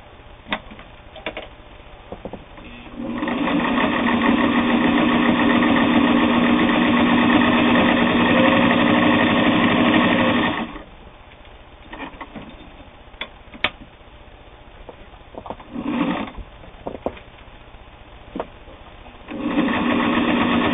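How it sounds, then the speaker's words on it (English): A Singer 401A sewing machine whirs steadily for several seconds stitching eight layers of heavy denim, stops amid a few clicks and knocks, then starts running again near the end. "We're going to sew eight layers of heavy denim on this Singer 401A."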